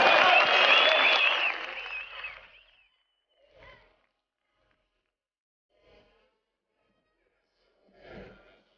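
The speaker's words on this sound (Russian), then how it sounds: "Как болеют в Воронеже, мы сейчас услышим." Applause from an audience in Voronezh at an Artem Akimov versus Simopoulos Panagiotis bout, loud and dense at first, then fading out over a few seconds, followed by a few faint, brief stirrings.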